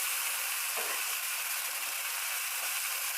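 Capsicum, carrots and beans being stirred in a frying pan, giving a steady close sizzle with faint scraping from the stirring.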